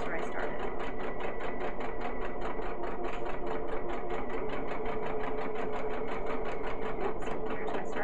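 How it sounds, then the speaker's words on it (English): Sewing machine stitching a 5/8-inch seam around the top of a fabric piece, a steady rapid mechanical whir and needle clatter running continuously and close throughout. "So I'm just sewing around the top, still keeping my 5/8 of an inch seam allowance, and I'm sewing all the way around."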